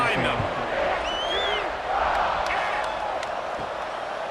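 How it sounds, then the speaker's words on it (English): A college football stadium crowd in the College Football 26 video game, West Virginia at TCU, roars and whoops at kickoff, a dense steady mass of cheering with a few whistles, under a commentator's voice. "this crowd now ready to get behind them"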